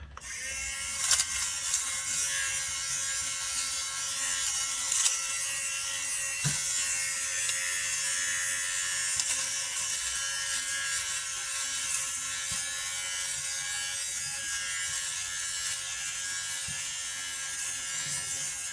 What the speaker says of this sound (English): The trusted handy bubble machine from Amazon.